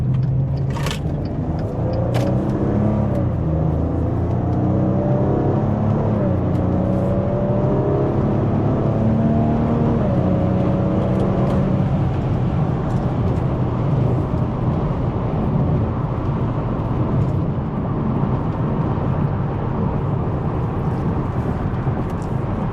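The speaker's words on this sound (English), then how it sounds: "Hear the exhaust" A car engine and exhaust roar loudly as it accelerates, the pitch climbing through gear shifts, then settling into a sustained rushing drone.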